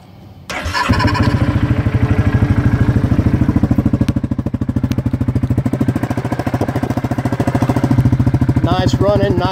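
A 2016 Yamaha Kodiak 700 ATV engine catches abruptly and settles into a loud, fast, throbbing idle that runs on steadily, with a voice talking faintly near the end.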